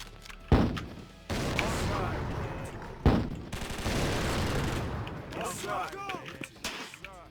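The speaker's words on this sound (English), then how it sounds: "But the mortars in this game go up" Mortars fire in the toy war video game Attack On Toys, two sharp booming blasts a few seconds apart followed by dense crackling gunfire and rushing game effects.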